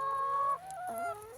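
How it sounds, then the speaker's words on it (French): Hens cluck and squawk close by in a backyard flock, a few drawn-out tonal calls followed by shorter rising clucks, loud and clear with no talking. "Je suis au milieu de mes poules, comme dirait l'autre."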